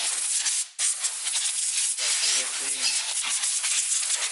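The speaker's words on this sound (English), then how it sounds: "Compressed air handy is good." A loud, continuous hiss of compressed air blasts across 2018 KTM 450 SXF top-end engine parts. It breaks briefly once and then resumes in a strong, steady rush.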